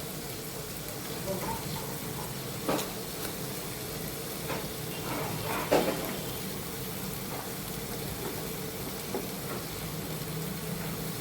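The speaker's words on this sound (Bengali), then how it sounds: "সবজিটাকে একটু ভালো করে কষাবো" Vegetables with turmeric and cumin sauté in a pan with a soft, continuous sizzle, broken by occasional stirring scrapes and a few louder clinks against the pan, heard at moderate distance.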